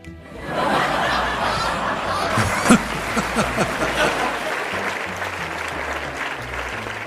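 Audience in a lecture hall applauds steadily with scattered laughter and chuckles mixed in, a dense sustained crowd sound from start to finish.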